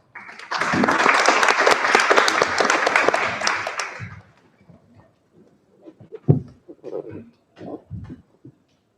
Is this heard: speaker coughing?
no